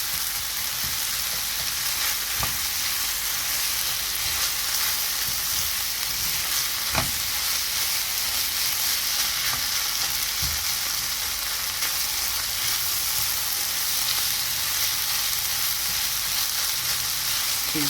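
Lean ground meat sizzles and fries in a pan while being stirred, a continuous loud hiss broken by occasional scrapes and clinks of the utensil, with no voices.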